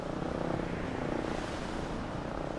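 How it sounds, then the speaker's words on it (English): Propeller aeroplanes and airships scouting overhead for submarines during the First World War, heard as a steady, broad engine drone that holds at an even level throughout with no talking. "Airships and aeroplanes scouted overhead, looking for the telltale signs of submarines lying in wait."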